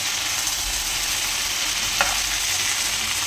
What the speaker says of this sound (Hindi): इसमें मैंने डाला है तेल में राई, हींग, हरी मिर्च जो मैं नॉर्मली डालती हूँ, और मोटा मोटा प्याज काट के डाला है